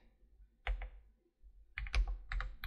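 Keys clatter on a computer keyboard heard close up, a short burst of typing, a pause, then a quicker run of clicky keystrokes.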